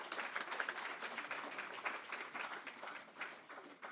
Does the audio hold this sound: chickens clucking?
no